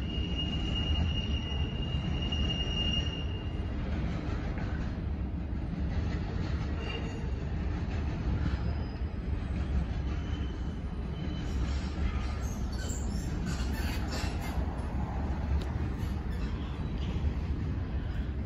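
A train rumbles past in a steady, loud roar of wheels and cars, with faint squeals and rattles near the end.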